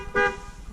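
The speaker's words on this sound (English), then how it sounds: "I don't know why I honked the horn." A short single honk from the car horn of a C7 Corvette, a brief bright toot rising over low engine rumble, close and alone.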